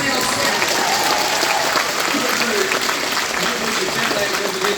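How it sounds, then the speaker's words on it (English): Crowd at a Wales comic convention Q&A panel for The Boys gives loud, sustained applause, a dense, continuous roar of clapping with voices and cheering mixed in throughout. "Round of applause for our first timer in Wales."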